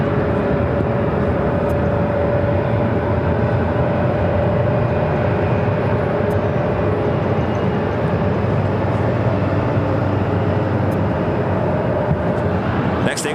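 An Airbus A321 airliner taxis and turns at Phoenix airport, a steady distant jet engine whine and broad rumble holding level the whole time with a faint tonal hum.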